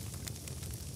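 Sizzling steam effect in a Lego cooking animation, as onions, pepperoni and green peppers go onto a pizza; a steady, loud, broadband hiss and crackle runs through the whole second with no talk.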